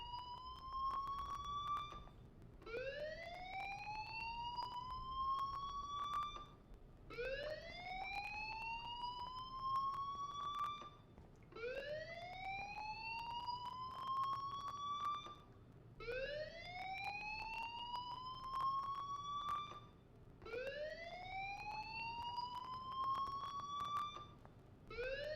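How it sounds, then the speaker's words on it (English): Fire alarm in the video game Life is Strange, a rising electronic whoop repeating about every four seconds for a long stretch, steady and fairly quiet with no talk over it. "Hey, do you hear that fire alarm?"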